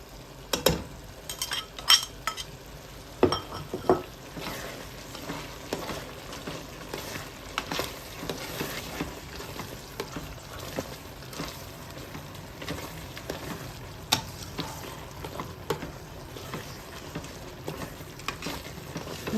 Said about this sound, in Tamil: நல்லா கிளற விட்டுக்கொண்டு நல்லா வடிவாக பிரட்டி எடுக்க